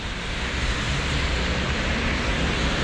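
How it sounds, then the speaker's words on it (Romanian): Steady wash of rainy street traffic heard from a bicycle on a wet commute, a dense, loud hiss of tyres on wet road and passing vehicles blending into continuous noise with no distinct events. "se aude traficul și mai ales că plouă"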